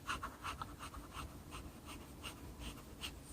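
A Pilot Penmanship fountain pen with a very scratchy nib moves across paper in a run of short, faint, rhythmic scratching strokes, close up and quiet.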